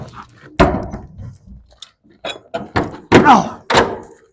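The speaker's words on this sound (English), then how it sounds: "We close this door." Heavy metal doors of a shipping container swing shut and latch, giving several loud thunks and clanks spread over a few seconds, close by, with faint grunts between the impacts.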